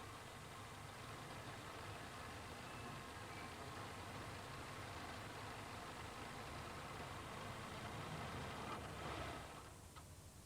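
A motor car engine runs at a steady idle, a continuous, fairly faint mechanical hum and rumble with no speech. It cuts off abruptly near the end.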